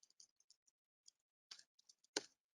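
Typing on a computer keyboard, with quiet, irregular clicking keystrokes, some isolated and some in small clusters, a few slightly louder taps near the end.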